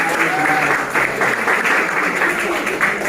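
A seminar audience of high school students in Pamekasan applauds, with dense, steady clapping filling the room throughout, loud and close, and faint voices underneath.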